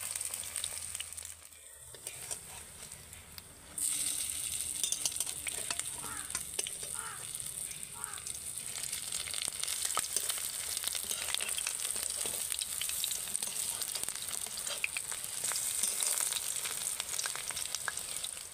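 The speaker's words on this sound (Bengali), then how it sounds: "প্রথমবারে বেশি দিলাম না, তিনটাকে ভেজে নিই, একটা পিঠ হয়ে গেলে আর একটা পিঠে উল্টে দেব।" Fritters (bora) frying in oil in a pan, three at a time: a brief quiet pause, then a steady, moderately loud bubbling sizzle with fine crackles that keeps going to the end, no talking.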